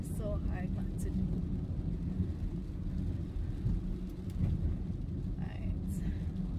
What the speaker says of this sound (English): I say it's raining like crazy.